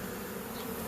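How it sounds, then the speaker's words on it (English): Bees buzzing inside an old log hive, a dense continuous insect drone with no pauses, close and steady throughout, no voices. "there's all kind of bees. They're trying to get out of this, and I don't think they can."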